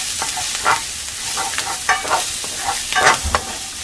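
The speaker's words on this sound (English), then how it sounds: "So now that the oil's it's hot, we're gonna add the ginger and the garlic." Ginger and garlic fry in hot oil while being stirred, a steady sizzle broken by scraping, clattering stir strokes, up close with no talk.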